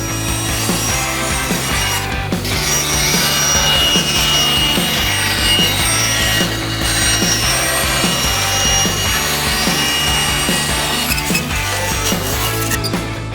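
A band saw cuts through wood with a loud, steady whirring drone and a continuous rasp of the blade, heard close and alone from start to finish.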